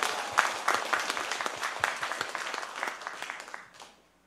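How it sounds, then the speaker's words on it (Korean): A church congregation claps during a Christmas Sunday service, distinct individual hand claps in a loose, uneven rhythm that thin out and fade away near the end. "우리 하나님께 영광의 박수 한번 올려드립니다."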